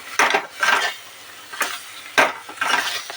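Utensil scraping and stirring prawns with chili in a pan, several separate bursts of scraping and clinks at an uneven rhythm, close and moderately loud with no talk.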